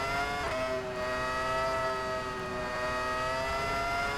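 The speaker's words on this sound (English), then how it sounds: "Just a naturally aspirated V10 Ferrari engine in this." A naturally aspirated Ferrari V10 in the F1 2000 racing game at the Japanese Grand Prix holds a steady, loud, high-revving whine with stacked harmonic tones throughout, slight pitch dips, no voices.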